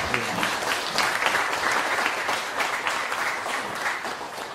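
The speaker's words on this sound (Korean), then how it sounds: "큰 박수 한번 보내주시기 바랍니다." Steady applause from an audience at a forum on small business owners, dense and continuous clapping filling the whole stretch at an even, fairly loud level.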